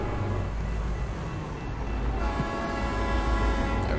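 In American Truck Simulator, a train rumbles past in a continuous heavy drone that builds slightly louder toward the end, heard over the steady hum of a simulated truck cab.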